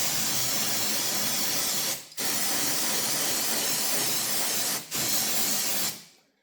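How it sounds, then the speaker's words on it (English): Brake cleaner sprays onto engine parts during an Audi 2.0 TFSI camshaft adjuster replacement: a loud, close, continuous aerosol hiss broken by two brief pauses, then cut off, with no talking. "let's hit it with some brake cleaner"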